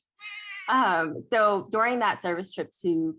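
Pet cat meowing close by, a drawn-out meow heard among a person's speech, with the voice and cat cries overlapping during an indoor talk recording.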